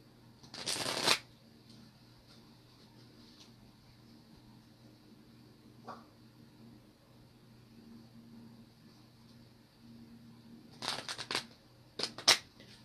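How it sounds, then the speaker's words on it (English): A deck of playing cards is shuffled in two bursts, one near the start and a cluster of riffles and snaps near the end, with a faint tap between them over a quiet room hum. "The boring time when I shuffle."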